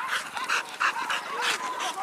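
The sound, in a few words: dogs barking during a wild boar hunt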